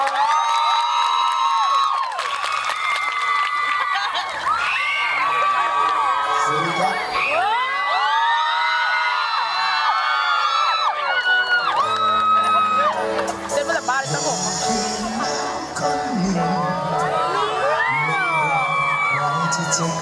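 A crowd at an outdoor jazz concert in Ayutthaya cheers, whoops and shouts loudly and continuously for a singer, a dense roar of voices with music ringing through it.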